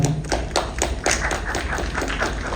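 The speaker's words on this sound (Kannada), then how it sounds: "ನಾವು ಎಲ್ರಿಗೂ ನಿಜವಾಗ್ಲೂ ಒಂದು ಚಪ್ಪಾಳೆ ಹೊಡಿಬೇಕು" A crowd claps at a press conference for the K D film song launch event, with dense, rapid handclaps forming steady applause throughout, fairly close and even in loudness.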